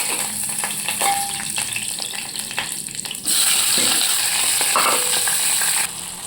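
Whole spices such as star anise hit hot oil for a biryani tempering, giving a crackling sizzle with light clinks that suddenly swells into a louder, fuller hiss midway before easing off at the end.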